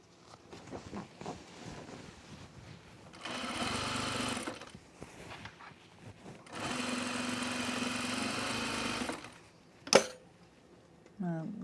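A sewing machine sews a curve on a blazer in two steady runs of even stitching, separated by a pause, with a person talking before and between the runs and a sharp clack near the end.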